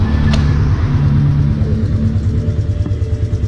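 A serviced Suzuki GN motorcycle engine, freshly valve-adjusted, idling nearby with a steady low rumble and a couple of small throttle blips, fairly loud, no talking.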